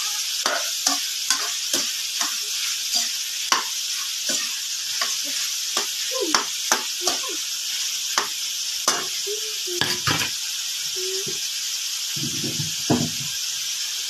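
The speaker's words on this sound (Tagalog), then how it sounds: "Igisa natin mabuti yung karne po para mas masarap yung lasa." Meat sizzles while being sautéed in a pan, with frequent close scraping and clanking as it is stirred, a steady hiss running under the irregular utensil strokes.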